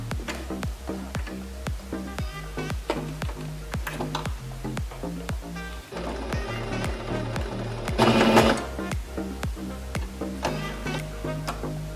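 A sewing machine stitches a homemade fabric face mask in a steady, rapid mechanical rhythm, close and continuous, with a brief pause midway and a slightly louder whirring burst before it resumes.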